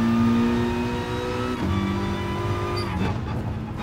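A Group 4 race car engine revs hard in the GT Sport racing game. Its loud tonal whine climbs, drops sharply at a gear change partway through, then climbs again, with a faint tire squeal and no voices.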